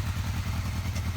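Motorcycle engine idling with a steady low throb and light mechanical clatter, close and alone, from either a 1985 Honda Nighthawk 650 or a 2020 Honda CB300R running with no choke.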